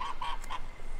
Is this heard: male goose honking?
yes